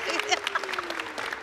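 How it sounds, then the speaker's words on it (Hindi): Studio audience applause for host Javeria Saud on a Ramzan entertainment show, a brief burst of dense clapping with a voice speaking over it. "आप जोरदार तालियां होनी चाहिए जवीरिया सऊद के लिए"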